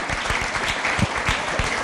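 A comedy show audience breaks into dense, continuous applause, loud and close, with many overlapping hand claps and no voices over it.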